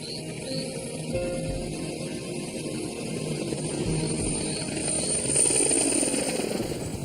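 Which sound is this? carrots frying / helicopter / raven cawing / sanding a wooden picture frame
helicopter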